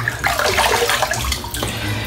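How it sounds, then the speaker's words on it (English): Continuous splashing and running water as a man wets his face at a bathroom sink before a wet shave, steady and close throughout with brief louder surges. "I'm just going to wet my face"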